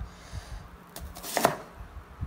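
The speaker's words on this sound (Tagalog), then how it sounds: "kailangan muna natin hiwain ito" A knife chops through onions on a cutting board while preparing gourmet tinapa, with a few soft, close taps under faint room noise.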